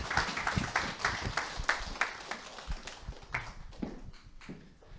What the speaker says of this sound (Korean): 멋진 성공을 하신 우리 이재열 로얄 마스터님을 큰 박수로 모시겠습니다.